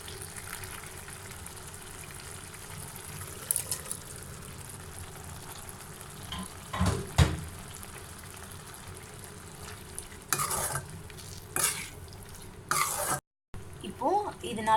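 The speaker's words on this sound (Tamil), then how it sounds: "அந்த கனவா மீன் இதில் ஆட் பண்ணிடலாம்." Squid pieces go into a boiling masala gravy and cook in the pan, a low bubbling sizzle with intermittent stirring clatters and a few close clunks, plus a brief cough nearby.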